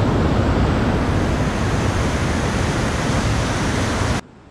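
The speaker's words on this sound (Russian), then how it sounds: "Шум падающей воды слышен за несколько километров." Loud, dense roar of the Kivakkakoski rapids on the Olanga River in Paanajärvi National Park, Karelia, pouring on steadily without a break, then cutting off abruptly near the end.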